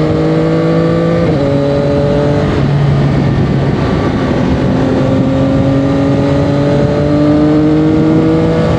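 A CF-Moto 675 SR-R sport motorcycle engine revs hard and loud, its tone climbing and dropping through gear changes before rising steadily again as the throttle opens wide, with no talking.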